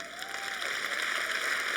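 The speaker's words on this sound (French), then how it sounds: "c'était l'applaudissement le plus triste que j'ai entendu depuis un bout." Sparse, half-hearted applause from a comedy-show audience, thin and quiet clapping that stays weak throughout the brief moment.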